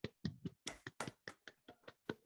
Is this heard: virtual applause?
yes